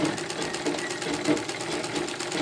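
Sewing machine stitching a straight seam on white paper during tailoring practice, a steady fast rhythmic clatter of the needle running continuously at close range.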